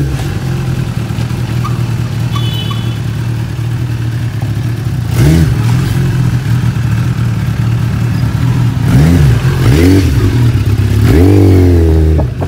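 A motorcycle engine idles with a steady low rumble, then revs in several rising and falling bursts, loudest toward the end, close to the listener with no talking.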